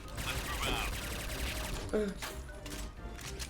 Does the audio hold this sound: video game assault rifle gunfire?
yes